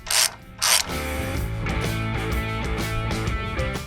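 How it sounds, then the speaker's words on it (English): A ratchet snugs down the upper bolt on a Toyota Tacoma wheel hub with a 12mm socket, first in two sharp separate clicks, then a steady run of fast, close metallic clicking. "And this upper bolt is snug down with a 12mm."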